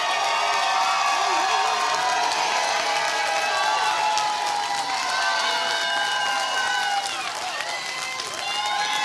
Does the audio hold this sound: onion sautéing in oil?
no